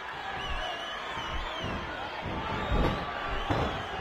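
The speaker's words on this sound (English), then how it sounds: "Would you listen to this crowd show their appreciation for these amazing competitors?" A constant crowd roar cheers in the WWE 13 wrestling video game, with dull thuds from the ring over the steady noise.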